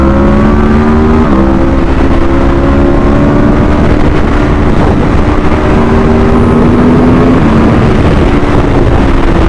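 A 2022 Aprilia RSV4 1100 Factory sportbike zips through traffic, its engine note loud and close, with several gear changes where the pitch drops and climbs again, all under heavy wind buffeting.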